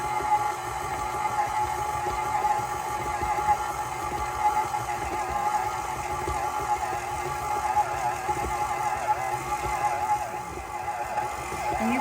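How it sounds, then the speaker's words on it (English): A stand mixer with a paddle attachment kneading flour tortilla dough, a steady laboring motor hum with a faint rhythmic knock, continuous and moderately close with no talking. "you can see the machine starting to labor a little bit, so we're gonna crank it up just a little bit to really get that dough kneading"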